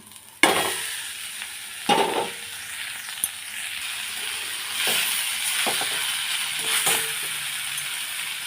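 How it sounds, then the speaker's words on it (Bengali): Kalmi greens hit hot oil with dried red chillies and black cumin, crackling and sizzling loudly up close, with scattered clanks and scrapes of a spatula stirring the pan and no talking. "এই যে শুকনো লঙ্কা কালো জিরে দিয়ে ভাজবো হয়ে গেছে আমি শাকটা দিয়ে দিলাম"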